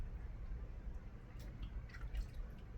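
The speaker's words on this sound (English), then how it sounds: "I'm cleaning them all off real good in cold water." Tomatoes rinsed in cold water, faint drips and light splashes over a low steady background hum, with no talking.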